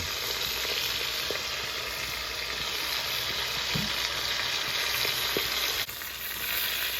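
Beef pot roast browning in a pan, a dense, loud, even sizzle that holds steady throughout with a few faint knocks and a slight dip near the end, no talking.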